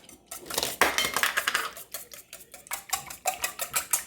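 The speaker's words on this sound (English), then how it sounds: "you've got your eggs all mixed up" Eggs for a quiche whisked in a bowl, a fork or whisk clinking against the dish in quick, uneven bursts of close, bright taps that speed into a steady rhythm near the end.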